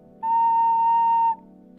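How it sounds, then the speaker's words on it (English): A small handmade clay pottery whistle gives one steady, clear tone held for about a second, loud and alone with no talking. "So I'm making these little whistles"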